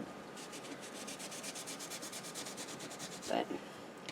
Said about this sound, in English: I'm going to go ahead and finish scrubbing this real quick.